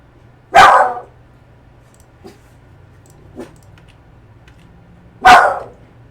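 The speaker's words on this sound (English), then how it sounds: "What are you barking at?" A pet dog named Griffey barks indoors: two loud, close single barks about five seconds apart, with a couple of faint soft sounds between them over a quiet background hum.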